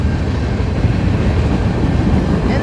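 A westbound freight train passes close by, a loud steady rumble with a heavy rolling roar of wheels on rails that holds constant throughout, with no voices over it.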